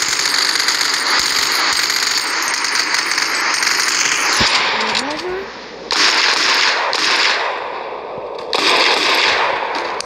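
Video game guns, pistols among them, fire in loud, rapid bursts of close shots. Brief pauses separate the volleys.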